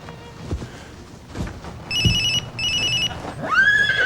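Electronic telephone ringing in two bursts of trilling tones, fairly close, followed by a rising warbling tone, over quiet background thumps and handling noise.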